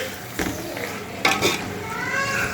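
A chicken dum biryani mixture is stirred in a pot, giving a few close scraping and shuffling strokes over a light sizzle.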